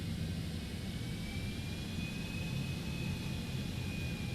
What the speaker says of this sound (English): let's move this beautiful aircraft out of here